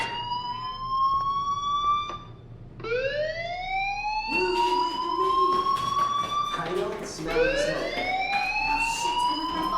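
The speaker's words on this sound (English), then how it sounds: "do you hear that fire alarm? That means you should be outside." A rising, repeating electronic fire alarm wails through a school building in the game Life Is Strange, sounding in several loud sweeping cycles while voices talk over it.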